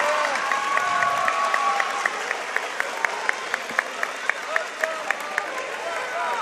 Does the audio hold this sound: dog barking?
no